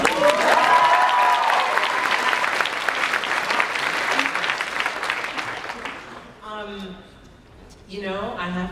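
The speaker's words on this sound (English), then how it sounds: "big applause for Hannibal." Audience applause for Hannibal during a talk show interview with a guest, loud dense clapping with cheers that fades after about six seconds, followed by a voice speaking.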